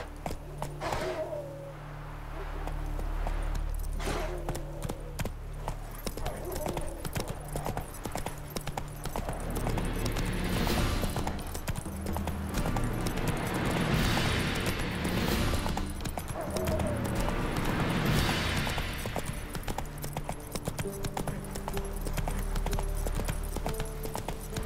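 Hooves of the horse Roach in The Witcher 3 clip-clop in a steady trotting rhythm throughout, close and prominent over ambient game sound, with a brief spoken line near the start.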